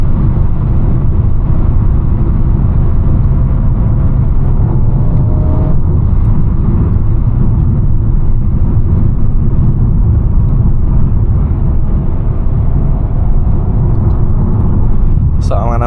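Engine of a 2021 Mercedes-Benz A250 with 226 hp and a 7-speed dual-clutch gearbox, accelerating hard at full throttle: a steady, loud low rumble and road roar from inside the cabin, continuous throughout, with a voice talking over it.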